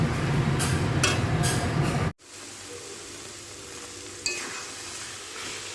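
Olive pickle pieces with jaggery cooking in a pan, a steady dense sizzle and stirring scrape that cuts off abruptly, then continues as a quieter low simmer with a brief clink near the end.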